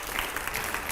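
A burst of continuous applause from a studio audience at a televised political interview, many hands clapping evenly and fairly strongly throughout the brief moment.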